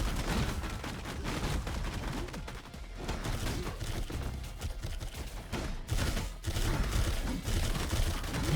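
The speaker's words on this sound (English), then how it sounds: "Bro, you're shooting me point blank, and I'm taking every shot." Dense, continuous enemy gunfire in the roguelite shooter Kiborg, with rapid overlapping shots filling the whole stretch at steady loudness, a couple of brief dips breaking the barrage.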